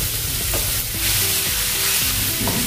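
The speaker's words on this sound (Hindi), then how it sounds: "इसको भी थोड़ा सा नरम करेंगे और भुनेंगे।" Onions and chana dal fry in a pan with a continuous sizzle, while a utensil stirs and scrapes through them in a few distinct strokes, close and fairly loud.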